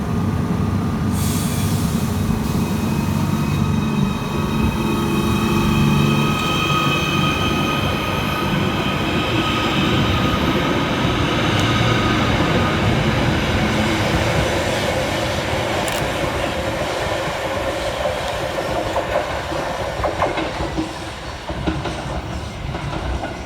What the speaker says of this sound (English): Next out to depart is 77725, working the 1359 Merseyrail electric service from Chester through to Liverpool Central.